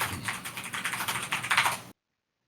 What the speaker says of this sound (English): There's a lot of excitement in that keyboard.